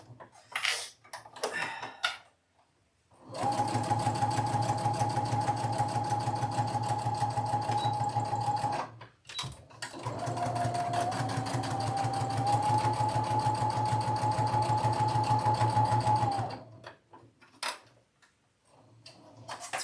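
A home sewing machine stitching a quilt block runs in two sustained bursts of fast, steady whirring with a steady pitch, stopping briefly between them, close and fairly loud, with brief handling noises before and after.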